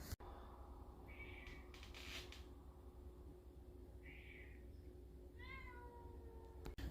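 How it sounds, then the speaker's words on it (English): Hungry cats meow outdoors in the morning, giving a few separate faint calls spaced out over a steady low background hum, with no talking. "We got some hungry cats out there this morning."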